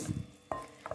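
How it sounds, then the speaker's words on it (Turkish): A short stretch of stirring through a batter seasoned with salt and baking powder: a soft wet swish followed by two quick clinks of the spoon against the bowl, close and quiet. "Ve güzelce karıştırmaya devam ediyorum."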